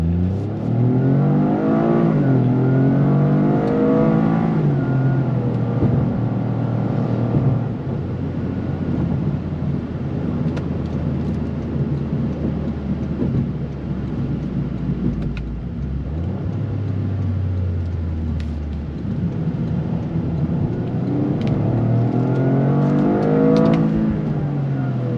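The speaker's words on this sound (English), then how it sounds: "the way that it's doing the shifts and the way that it's keeping the power band" A 2025 Toyota GR Corolla with the 8-speed automatic accelerates hard, its engine revving up through the gears with the pitch dropping at each shift, loud and steady from inside the car with no talking.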